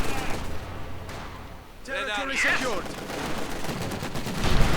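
Light machine gun fire in a WWII strategy video game, rapid bursts of shots mixed into battle noise, with a voice talking over the middle of the clip.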